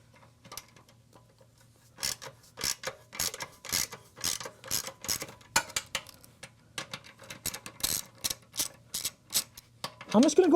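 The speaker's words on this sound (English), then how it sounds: "I'm gonna go right on the bottom and I'm gonna loosen up these clamps" Ratchet loosening the exhaust clamps under a Honda CB1000R motorcycle, a series of close, rhythmic clicking pulls repeated many times, with a voice speaking briefly near the start.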